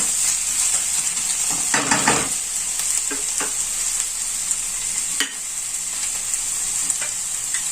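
A spice paste for prawn chops fries over medium heat in a pan. A continuous loud sizzle and crackle carries through the clip, with a few stirring scrapes and no voices.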